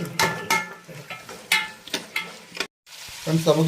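Shallots sautéing in a pan for a Kerala-style beef fry, with repeated scraping stirs over a steady sizzle and a brief silent gap before the frying resumes.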